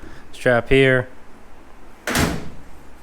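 A voice speaks briefly, then the door of a coupe car is opened once with a short, sharp clunk, close by in a quiet workshop during removal of the body.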